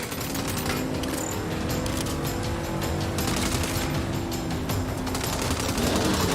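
Sustained automatic gunfire in the Saints Row video game, dense rapid bursts of shots running continuously over a loud steady background roar.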